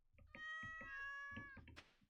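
Pet cat in Stardew Valley giving one clear drawn-out meow, close and bright, framed by soft clicking game sounds.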